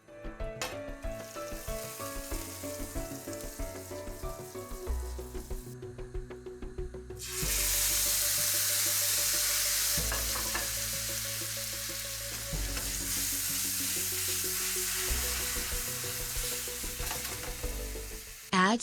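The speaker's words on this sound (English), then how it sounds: "Heat the butter and add the grated tomato." Grated tomato hits melted butter in a pan and bursts into a loud, steady sizzle, preceded by quieter clinks and stirring, with the frying hiss continuing under occasional scrapes.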